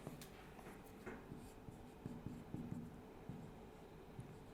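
Faint scratching of a pen or marker writing a formula during a chemistry lecture, soft strokes and taps in an irregular rhythm, quiet and close, without talk.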